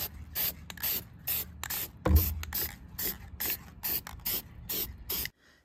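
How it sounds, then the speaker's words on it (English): An aerosol spray can coats a bowl with paint in a rapid series of short, close hissing bursts, each under half a second, evenly spaced, with one slight knock midway and silence at the end. "now we're going to spray paint it."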